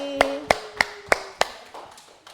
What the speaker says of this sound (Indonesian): tepuk tangan untuk Mbak Feby